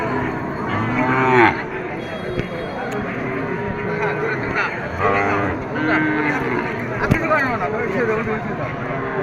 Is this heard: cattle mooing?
yes